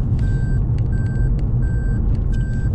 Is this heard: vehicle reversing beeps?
yes